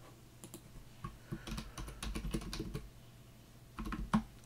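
Typing on a computer keyboard while an apartment database is built in LucidCharts and Postgres, with quick irregular key clicks in short bursts, close up and fairly quiet, and no talking.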